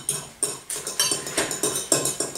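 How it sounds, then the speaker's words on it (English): A spoon scrapes and knocks around a pot of stock with a dissolving stock cube, in a steady run of about ten sharp, evenly spaced strokes, close and fairly loud with no talking. "Will you stir that now for me, Iz?"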